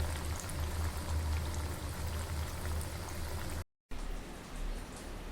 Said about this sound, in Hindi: हमारी आलू की टिक्की डीप फ्राई हो रही है।